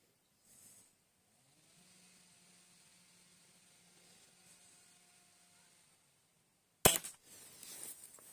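After a long near-silent stretch with faint hum, a single sharp shot from a Shanghai B1-1 air rifle, fired from a rest at 10 metres, cracks loudly, followed by a brief clatter and hiss.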